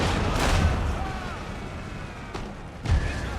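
Cannon fire on an Empire: Total War battlefield, a few deep booms with rumbling tails over constant battle din, including one blast near the start and another near the end, with a voice talking faintly underneath.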